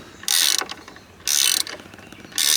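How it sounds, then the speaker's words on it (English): A Torx T40 driver ratchets as it backs a screw out of a 2020 Jeep Wrangler door: three short, loud bursts of rapid metallic clicking separated by quiet pauses. "take this screw out of this side"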